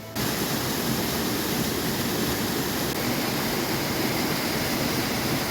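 Steady, powerful roar of the Shypit waterfall in the Transcarpathian Carpathians, a dense rushing hiss that stays constant throughout, loud and close.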